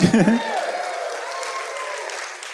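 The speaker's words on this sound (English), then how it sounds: "You can applaud that." A live theater crowd at a holiday podcast show breaks into applause. A voice is heard at the start, then the clapping settles into a sustained, gradually fading wash.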